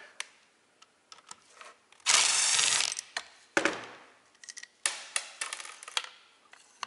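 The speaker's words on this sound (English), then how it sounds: "let me pull this top part of the pump apart" Plastic housing of a submersible pond pump being pried and pulled apart: close ratcheting clicks and creaks, two longer scraping bursts of friction, then scattered sharp snaps and taps.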